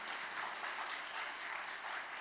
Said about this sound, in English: Let them give a big round of applause for putting this together.